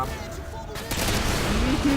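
Rapid gunfire in the video game Call of Duty Modern Warfare 2, a burst of dense, loud shots in the second half following a quieter stretch, with a player's voice audible underneath.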